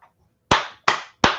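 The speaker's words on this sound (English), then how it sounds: "I'm clapping for the dog" Three sharp, close hand claps ring out at an even pace, each with a short ringing tail, after a brief faint sound.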